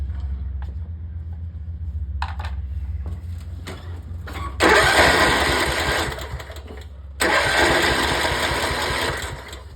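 A riding lawnmower engine with no spark being cranked: the starter whirs in two long grinding bursts after a few short clicks, with a low steady hum underneath and no start.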